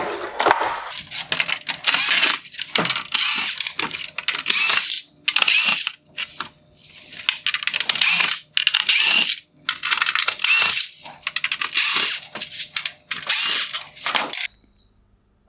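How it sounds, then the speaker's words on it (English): A screwdriver backs T10 Torx screws out of a Maserati Levante LED headlight housing, with close bursts of gritty ratcheting and scraping separated by short silences, repeated many times with no talking. "The front bezel and LED daytime running light are all connected to the lens using a series of T10 Torx screws. I will go ahead and remove those now."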